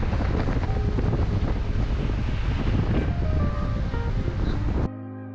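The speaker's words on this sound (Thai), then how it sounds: "ลมแรงมาก" Strong wind buffets the microphone on White Sand Beach, Koh Chang, roaring steadily over surf washing ashore, loud and constant before cutting off abruptly near the end.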